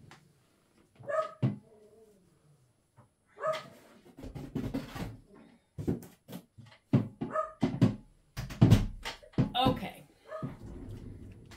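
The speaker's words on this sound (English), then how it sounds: "apparently he is not going to stop barking" A dog barks in scattered bursts, some close and sharp, with whimpers between; a person talks intermittently and a door knocks shut.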